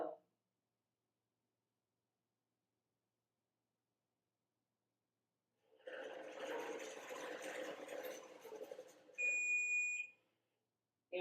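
After a long silence, a sewing machine whirs briefly, then a sharp, high electronic warning beep sounds for about a second, triggered by a check spring not moving, before everything goes quiet again.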